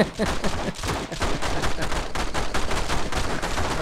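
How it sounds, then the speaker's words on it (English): Dense, rapid gunfire rattles continuously, loud and relentless, like automatic weapons firing nonstop in the video game The Matrix: Path of Neo. "an amazing amount of gunfire"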